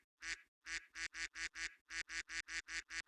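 A cartoonish duck quack sound effect from a video game repeats about a dozen times in a quick, steady rhythm, each quack loud and close.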